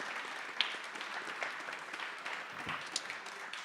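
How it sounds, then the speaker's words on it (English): An audience claps at a live podcast taping at an arena venue. The applause is faint and distant, a soft, continuous patter with a few sharper claps poking through. "Let's give him a round of applause."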